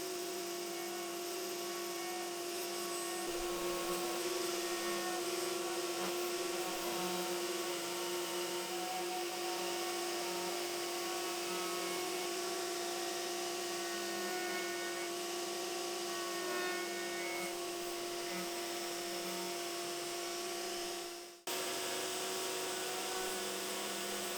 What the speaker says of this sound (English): I'll take them across to the router table and get them down to their final shape